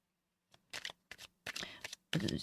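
Tarot cards shuffled in quick riffling bursts, four or five close crisp flurries with short pauses between them, the last one loudest, faint low hum underneath.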